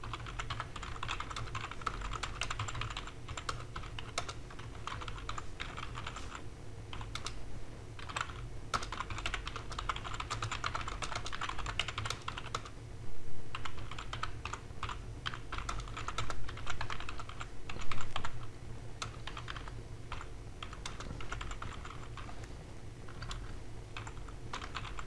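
Fingers type text on a computer keyboard in a continuous run of quick, soft key clicks with short pauses, close and fairly quiet over a faint room hum.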